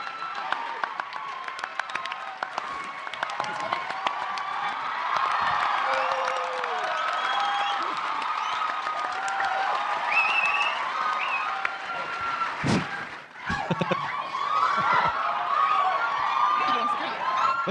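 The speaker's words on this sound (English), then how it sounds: "So, can we just sit here and let them cheer for the next hour?" Comic Con panel audience of a large crowd cheering and applauding continuously, with whoops and shouts rising over a dense wash of clapping in a big hall.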